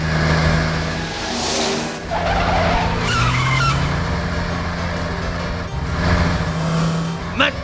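Cartoon car tearing away with skidding, squealing tires and a revving engine, loud and continuous, with excited character voices over the engine noise.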